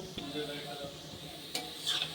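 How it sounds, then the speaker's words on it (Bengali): Raw banana kofta balls fry in hot oil, a soft continuous sizzle broken by a couple of sharp stirring clinks from a utensil against the pan. "সুন্দরভাবে ভাজা হচ্ছে"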